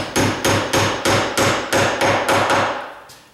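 A series of about ten sharp metallic hammer taps on a door hinge pin in a steady rhythm, close and loud, trailing off with a fainter final tap.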